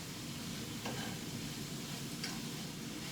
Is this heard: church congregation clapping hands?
no